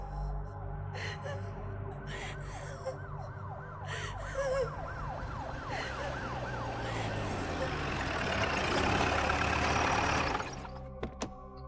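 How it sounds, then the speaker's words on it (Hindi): A police jeep siren wails in an audio drama scene, sweeping up and down repeatedly. It grows louder and nearer over about ten seconds, then cuts off abruptly. "तभी उसे पुलिस की जीप की सायरन सुनाई दी।"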